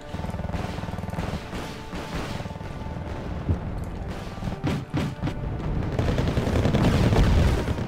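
Gunfire from marksmen and Abrams tanks in the Wargame Red Dragon real-time strategy game: a dense, continuous barrage of overlapping shots, crashes and booms at steady high loudness, swelling toward the end.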